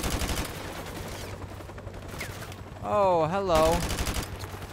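AK rifle fired with heavy recoil in the Modern Warfare Remastered campaign, dense loud gunfire crackling steadily throughout, with a voice briefly speaking over it midway.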